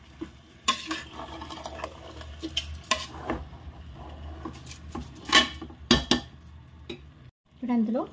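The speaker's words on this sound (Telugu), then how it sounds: "వేసుకొని బాగా కలుపుకోవాలి." A spoon stirs cooked rice into chicken khichdi in a metal pot, with repeated scraping and clinking against the pot walls in an uneven rhythm and a faint sizzle underneath, all close up.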